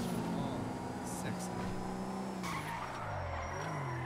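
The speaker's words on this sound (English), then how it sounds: "Do you see that purple tire smoke coming out when I drift this bad boy?" Tires squealing as a tuned car drifts in GTA V, a continuous screeching skid under a revving engine, with voices talking over it.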